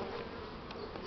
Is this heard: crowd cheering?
no